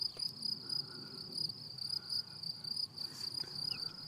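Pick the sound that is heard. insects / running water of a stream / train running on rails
insects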